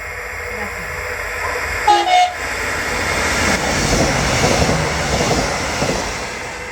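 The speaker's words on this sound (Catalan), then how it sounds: "Atención, efectuará su paso un tren sin parada." A non-stopping train passes through a Valencia commuter rail station, a loud sustained roar with a brief horn blast near the start, swelling as it sweeps past the platform.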